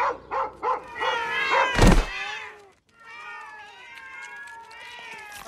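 Cartoon cats meowing in a quick series of short mews, then one long drawn-out yowl after a loud thump, close and clear with no talking.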